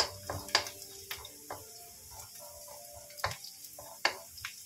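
Garlic frying in a pan until lightly browned, a soft sizzle punctuated by sharp scraping and stirring clicks of a utensil against the pan at irregular intervals, close and fairly quiet, without voices.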